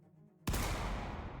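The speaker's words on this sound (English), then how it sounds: "The sound of a gunshot echoed in our ears." A single loud gunshot in the video game Project Eden's Garden cracks suddenly out of a quiet hum, followed by a long, dense rumbling echo that slowly fades.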